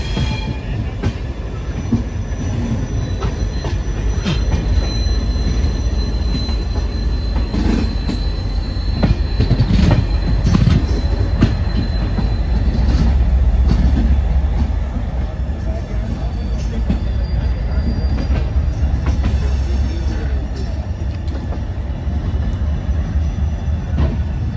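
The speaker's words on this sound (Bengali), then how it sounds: "আর দেখো ট্রেনটা জাস্ট ছাড়লো।" Jammu Tawi Express pulling out of a station, heard from on board: a loud, continuous rumble of carriages with wheel squeal and rail clatter building over the full length, with faint voices now and then.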